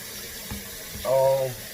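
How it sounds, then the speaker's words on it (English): Regular tap water runs steadily from a faucet as sea moss is rinsed, a soft continuous splash with a brief fuller gush near the end, and a voice speaking over it. "I clean it in the regular tap water"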